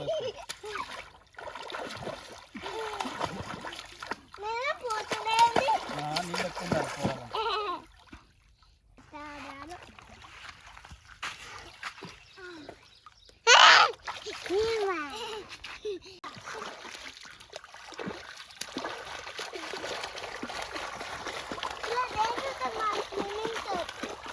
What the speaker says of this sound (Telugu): వాళ్ళ వాటర్లో అయితే ఎండకు తట్టుకోలేక ఆడుకుంటాళ్ళు